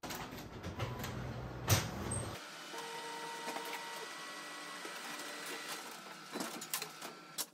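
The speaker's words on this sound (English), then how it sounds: "So now it's time to print the dashboards" A printer feeding and printing paper dashboards at a home packing station, running with a steady mechanical whir and periodic clicks and clunks, fairly quiet and close, with no talk.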